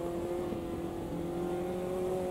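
A Lotus 620R engine in the racing sim Automobilista 2 holds a steady, droning note with firm harmonics, running continuously at a fairly constant pitch throughout without talk.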